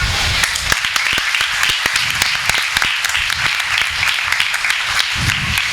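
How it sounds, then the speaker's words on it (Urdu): An audience claps hands continuously, a dense, steady patter of applause that carries on at an even level from start to finish. "پچھلے بینچ کے لیے تالیاں بجاؤ"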